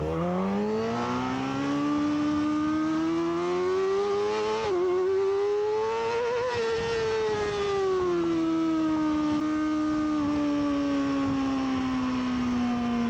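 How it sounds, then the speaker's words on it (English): Amateur sportbike race motorcycles at a Bridgestone CSBK round head out on a warm-up lap, a steady loud engine drone whose pitch rises and falls with throttle changes, running continuously with no talk. "Now heading out for our warm-up lap."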